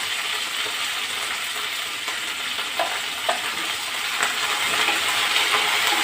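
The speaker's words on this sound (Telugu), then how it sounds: "చూసారు కదా పోపు అంతా మంచిగా వేగిపోయింది" A tempering of curry leaves and chopped coriander fries in hot oil for a lentil dish with cucumber and tomato, giving a steady close sizzle with a few light scrapes and clicks, no voices.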